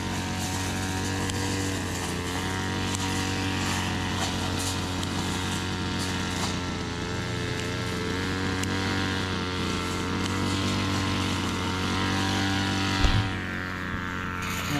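A grass cutter runs steadily at a constant engine drone with a strong harmonic buzz, loud and continuous throughout, with one brief knock near the end.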